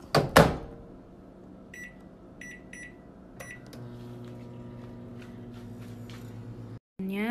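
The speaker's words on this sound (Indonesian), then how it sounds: "Ngangetinnya pakai microwave." A microwave oven warming food runs with a steady low hum after a door clunk and a few short beeps. The door opens with a click near the end.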